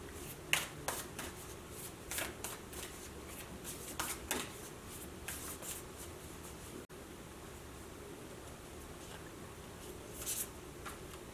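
A deck of reading cards is shuffled close by in quiet, with soft riffling bursts and slides repeating irregularly over several seconds, with a short pause near the middle.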